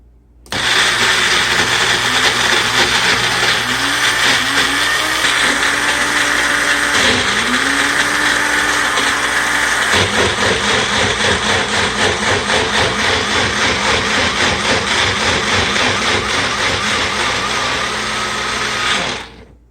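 An electric blender whirs through roasted red bell pepper sauce with olive oil, a loud, steady high-pitched motor whine that wavers slightly as the contents churn and runs for about twenty seconds before cutting off.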